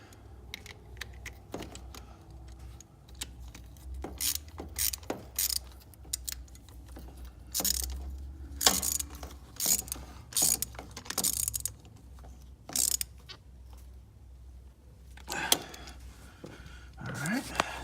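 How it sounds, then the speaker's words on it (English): A wrench tightens a fuel line nut on a John Deere 5055E tractor during a fuel filter change, with irregular close clicks and metallic taps in bursts over a low hum, with brief speech. "And then you're gonna tighten this nut here."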